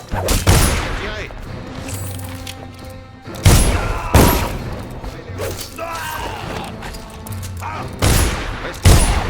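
Gunfire from the video game Dishonored: repeated loud, booming volleys of shots at irregular intervals over a continuous rumble of game noise, with voices talking throughout.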